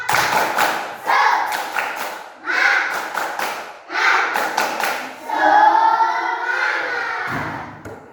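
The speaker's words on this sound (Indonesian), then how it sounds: "Tepuk semangat dulu. Tepuk semangat." A group of scouts performs a rhythmic clapping chant, short bursts of sharp patterned claps separated by pauses, joined by voices calling out in unison.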